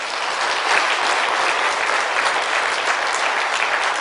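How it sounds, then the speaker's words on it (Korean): Church revival meeting audience breaking into applause, a dense, even burst of many hands clapping close by, continuous for a few seconds without talk. "이때는 영광의 박수를 한번 돌리는 거예요."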